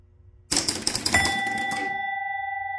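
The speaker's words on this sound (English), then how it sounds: "when it does, it should ring the bell" An electromechanical clock's bell strikes once loudly after a burst of relay clicking, its clear metallic tone sustaining and slowly ringing out alone.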